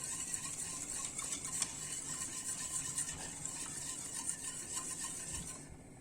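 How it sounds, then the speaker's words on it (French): A whisk stirring a cake mixture with butter in a bowl, a continuous scraping and rubbing with faint rhythmic clicks against the sides, close and fairly quiet. "je mélange bien avec le fouet"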